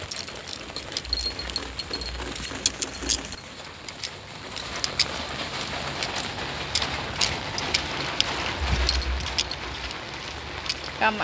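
Steady rain falls throughout, a dense, even hiss with scattered drips and clinks, while muffled voices and occasional jangling keys sound faintly beneath it.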